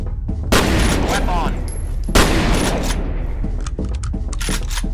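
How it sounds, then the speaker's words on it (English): Shotgun blasts in a video game: two loud, booming shots a couple of seconds apart over a busy backdrop of gunfire and game noise, with fainter shots and clicks following. "this is a good shotgun"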